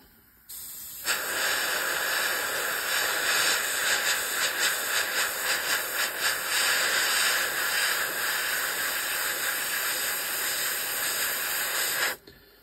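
An airbrush sprays paint onto a 1/72 Matchbox Me262 model kit in a steady, close hiss lasting about eleven seconds, with slight pulsing in the middle, then cuts off abruptly.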